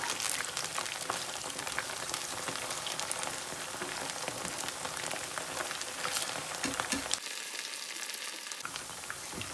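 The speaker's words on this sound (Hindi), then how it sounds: "फ्राई कर लेंगे।" Manchurian balls fry in hot oil in a pan on a gas stove, giving a steady, dense sizzle and crackle that runs nearly unbroken, dropping out briefly near the end before the frying noise resumes.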